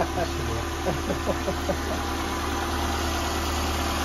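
Peugeot 206 with a TU petrol engine idling after a timing belt job, a steady low rumble close by, with brief French speech over the first couple of seconds before the engine continues alone.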